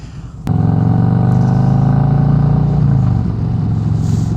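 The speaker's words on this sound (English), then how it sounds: "These tab pipes sound so good." A 2018 Harley-Davidson Road Glide Special fitted with Tab Performance mufflers revs up close and loud after a half-second lead-in, holding a deep, steady rumble that eases slightly near the end.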